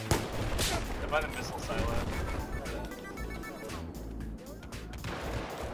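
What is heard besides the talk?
gunfire in Battlefield 4 video game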